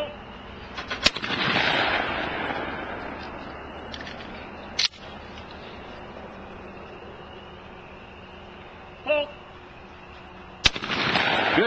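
A shotgun fires at skeet targets during a night shoot. Three sharp, loud reports are spread apart over a low outdoor hum, with a voice faintly audible in between.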